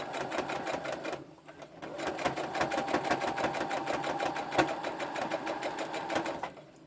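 A sewing machine stitches down small fabric snippets for a snippet roll, its needle running in a steady, rapid mechanical rhythm for most of the stretch with a brief pause early on, close and continuous.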